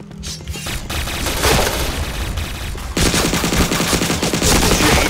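Rapid automatic gunfire rattles through a Point Blank match as headshots land, loud dense bursts with booming impacts that pause briefly near the three-second mark and then resume in a hard, relentless volley.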